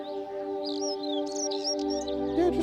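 Birds on an island in the VR nature experience Nature Treks VR chirp in scattered bright phrases, moderately loud, over a steady droning hum.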